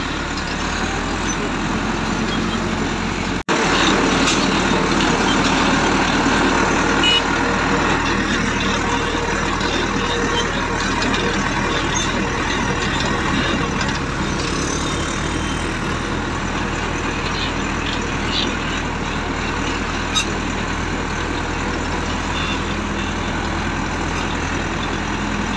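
A diesel tractor engine drones steadily and loud while driving through town, a continuous low rumble with traffic-like noise around it and a sharp knock early on.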